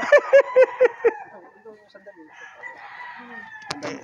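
A rooster crows nearby in a short burst of loud, evenly spaced calls, followed by quieter chicken clucks and a voice speaking.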